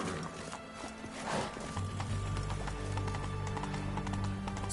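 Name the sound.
horse galloping in the video game The Witcher 3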